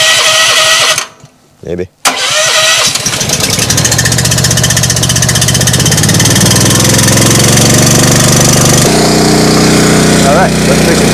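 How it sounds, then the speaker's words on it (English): A log splitter's small gas engine cranks with a key, catches and settles into a loud, steady idle close by, its rough chugging running continuously with a shift in tone partway through; a person speaks briefly. "turn the gas on and turn the choke on. about half throttle, hit the key"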